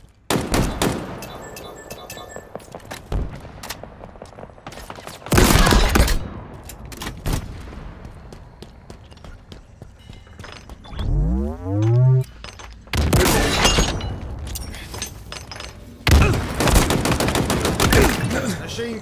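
Machine gun fire in the video game Halo Infinite during an arena match: loud, rapid bursts of automatic shots in several separate volleys, with quieter game sounds and a rising whoosh between them.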